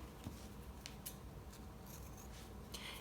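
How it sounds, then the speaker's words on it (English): Scissors cutting vinyl earring shapes out of batik fabric, quiet scattered snips and soft rubbing close by. "I'm gonna cut these shapes out now."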